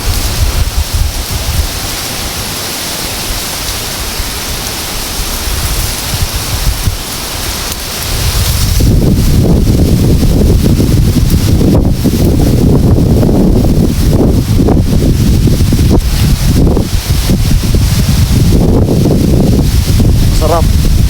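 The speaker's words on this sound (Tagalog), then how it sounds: "sobrang lakas talaga ng hangin dito kasi nasa tuktok na tayo ng bundok" Strong wind on a mountain top buffets the microphone in a continuous roaring rush, gusting much louder after the first few seconds and staying heavy throughout.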